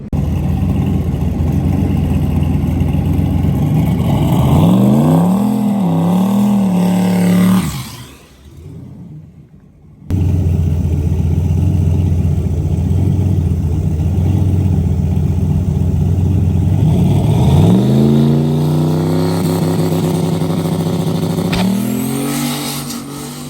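The Rock Lobster race car's engine revving loudly on a test run, a long sustained roar with rising pitch sweeps, a brief dip near the middle, then another climbing rev, close and alone.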